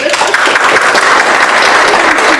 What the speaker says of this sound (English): Let's give a good round of applause for Rose Beeson.